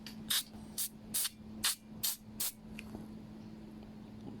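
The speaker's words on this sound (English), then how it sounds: "you have to spray from the tiny hole there. If you can see, the carb cleaner goes through the other end" Carb cleaner sprays in six short, crisp hissing bursts into the carburetor of a Honda UMK425 brushcutter with a GX25 engine, close by over a low steady hum.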